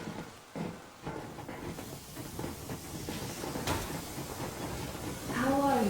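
A steam train moving in the Metro Exodus video game gives a quiet, steady rumbling hiss, with a rising whistling whine coming in near the end.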